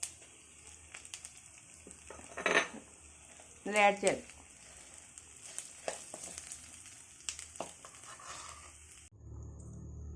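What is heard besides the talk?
leaves frying in oil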